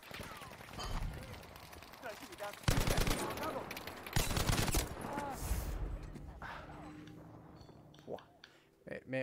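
Light machine gun firing in an online multiplayer shooter, rapid bursts of automatic fire with loud, dense volleys in the middle stretch, mixed with other game sounds and voices talking over it.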